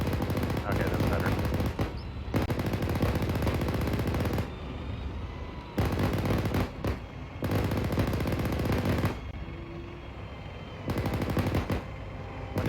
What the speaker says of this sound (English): the nice thing about a joystick is I can do raking fire like that